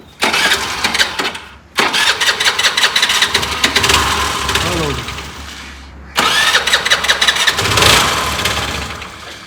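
A Honda Activa scooter's engine is started twice: each time a cranking burst catches and settles into a loud, close idle with some revving, with voices briefly in between.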